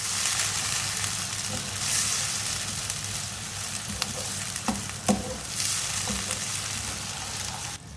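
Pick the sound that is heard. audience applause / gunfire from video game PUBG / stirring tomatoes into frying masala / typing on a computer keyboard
stirring tomatoes into frying masala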